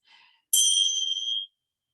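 A bell rung to begin a yoga practice, a single clear bright ding that rings out and fades over about a second after a soft breath.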